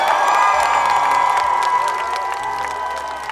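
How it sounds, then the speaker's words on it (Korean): A large outdoor crowd at a road-naming ceremony for a trot singer claps and cheers steadily, with shouts and whoops over a continuous roar and sustained music or tones beneath. "여러분 다시 한번 큰 박수로 맞아주시기 바랍니다"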